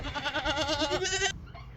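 A goat bleats in a long, wavering call, close and clear, followed by a short softer cry and quiet background.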